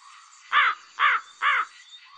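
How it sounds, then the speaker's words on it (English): A black crow caws three times in an even rhythm, each call loud, harsh and close, with short quiet gaps between them and a faint steady background hiss. "The crow is a bird of black colour."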